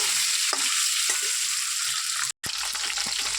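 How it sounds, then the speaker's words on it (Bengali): A duck egg sizzles steadily in hot oil in a pan, a loud continuous crackling hiss with a brief dropout near the end and no talk. "তার মধ্যে ডিমটা ভাজা হয়ে যাবে"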